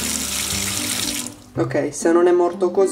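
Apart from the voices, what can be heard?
hot water running from a kitchen sink tap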